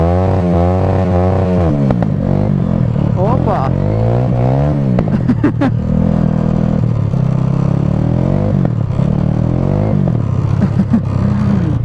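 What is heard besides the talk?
motorcycle riding on snow in January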